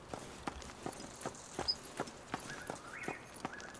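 Footsteps in the PC survival game Shattered Skies, a run of soft, evenly spaced steps at a walking pace, faint and moderately distant, with a couple of brief tonal game cues late in the clip and no talk.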